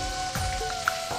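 Potatoes frying in a pan for a pabda fish curry, a steady soft sizzle with small pops and crackles, close and continuous, with no voices.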